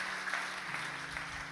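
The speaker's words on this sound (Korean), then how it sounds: "주님께 영광의 박수 올립니다." A church congregation claps in praise during a Korean sermon, a short, even burst of applause at moderate level lasting under two seconds.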